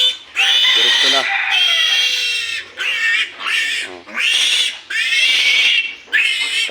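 Piglets about three days old shriek during castration on a farm, with loud, shrill, near squeals repeating in long bursts and only brief breaths between them.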